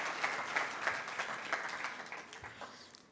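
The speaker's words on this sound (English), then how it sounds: "just a round of applause for all the judges who helped us through all of them" An audience claps for the judges at a debate competition held for International Migrants Day, a steady spread of applause that stays moderately loud throughout without voices on top.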